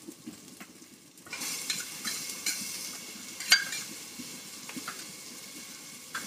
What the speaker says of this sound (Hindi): 10 मिनट जाने तक फ्राई करना है